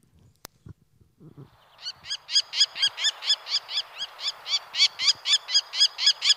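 A wild bird calls over and over in a steady, evenly spaced series of bright, harmonic notes that grow louder and continue to the end, after a few soft thumps at the start.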